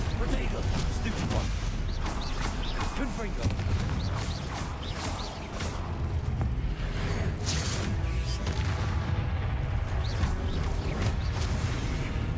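Confringo fire spells blasting during spell combat in Hogwarts Legacy, a run of sharp bursts and crashes over a dense, continuous game soundscape with a voice talking throughout.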